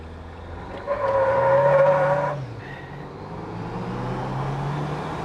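Jeep Wrangler engine with a throttle controller revving briefly, a rising then falling roar that settles into a steady idle-like drone, heard close and alone.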